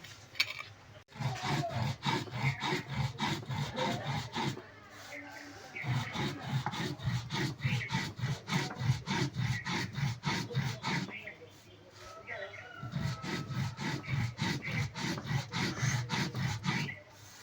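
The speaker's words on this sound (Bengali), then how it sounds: "আবার শিলে একটু আমি গুঁড়ো করে নেবো" Spices and salt are ground on a stone slab (shil), a rhythmic rasping scrape of stone on stone repeating in quick strokes, close and loud, pausing briefly twice before resuming.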